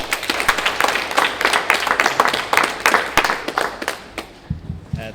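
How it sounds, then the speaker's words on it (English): A round of applause from a conference audience at a Motsepe Foundation International Women's Day 2020 event for speaker Sandile, dense steady clapping for about four seconds, then thinning to a few last claps. "Let's give Sandile a round of applause."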